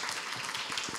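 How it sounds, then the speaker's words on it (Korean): An audience at an outdoor orchestra concert claps in a brief, continuous burst of applause that sounds moderately close and even throughout. "박수 부탁드리겠습니다"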